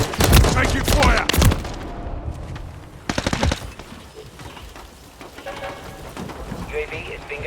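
Bursts of rapid automatic gunfire in Modern Warfare 3 on the Underpass map, loud dense volleys at the start and again around the middle, with radio-style voices and battle ambience in between.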